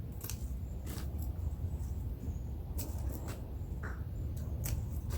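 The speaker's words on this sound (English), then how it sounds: "I cut below that one leaf node" Pruning shears snip a poinsettia stem just below a leaf node while the plant is being up-potted, giving a few sharp, brief clicks over a steady low background hum.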